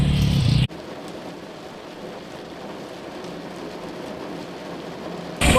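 Heavy rain pours down as a dense, continuous hiss of drops on surfaces, with louder bursts at the very start and end.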